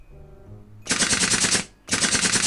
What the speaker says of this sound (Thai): มันยิงกันยับเฮ้ย